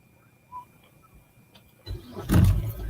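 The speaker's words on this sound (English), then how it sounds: "I had to turn the car back on to get some air." A car engine is started inside a hot parked car: a short cranking surge catches near the end and settles into a close idle rumble after a quiet cabin.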